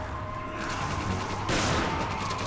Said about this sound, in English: I keep throwing grenades